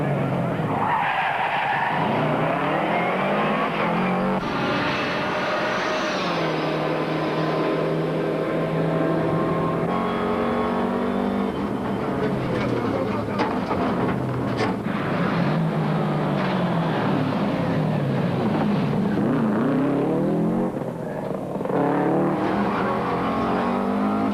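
Large, heavy four-wheel-drive rally cars race through a tight Cape Rally 2003 stage, engines revving hard and rising and falling through gear changes, with tyres skidding on loose ground, loud and continuous for the whole stretch.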